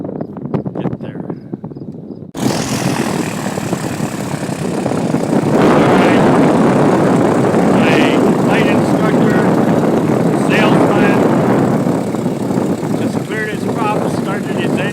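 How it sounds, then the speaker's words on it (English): A Cessna 162 Skycatcher's propeller engine starts and runs steadily at an airfield, a loud broadband drone that fills the scene after a quieter opening, with brief higher-pitched tones over the constant roar. "Started his engine, and he's leaving for Martin Field."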